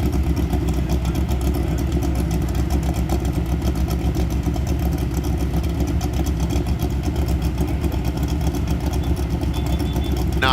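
A Riviera racing truck idles steadily at close range, a deep continuous rumble holding an even, unbroken rhythm throughout, with no voices over it, amid the NORRA Baja rally stage from Ensenada to San Felipe.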